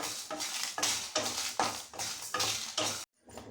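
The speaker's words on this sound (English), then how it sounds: "Now add cinnamon stick, cardamom and cloves and fry it." Cinnamon stick, cardamom, cloves and red chillies being fried in a pan, heard as rhythmic scraping stir strokes about twice a second with a light sizzle, close and steady, ending in a brief pause.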